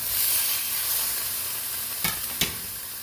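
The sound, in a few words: ribeye steak searing in cast iron skillet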